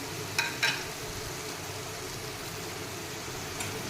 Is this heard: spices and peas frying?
yes